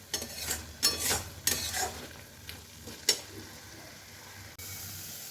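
Pointed gourd stirred repeatedly in an oiled kadai, soft frying sizzle broken by several sharp scraping strokes of a spatula against the pan, close and without speech.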